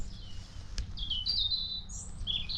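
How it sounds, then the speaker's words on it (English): High, faint birdsong of a blackbird and robins drifts over an allotment garden, a few thin warbling phrases above low background rumble. "This bird song, this blackbird and robins are amazing."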